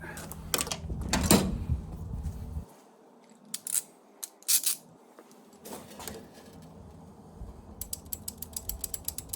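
Electrical wire being snipped with cutters at the cut mark, giving a few sharp, close clicks and crunchy snips spaced apart, followed by a quick run of small ticking clicks near the end.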